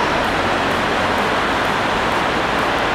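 A rain storm outdoors: a loud, dense, unbroken hiss of heavy rainfall fills the whole stretch, close and steady, with no talking.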